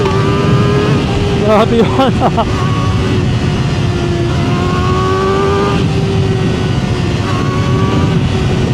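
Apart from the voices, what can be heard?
Kawasaki ZX4RR motorcycle accelerating with 50T rear sprocket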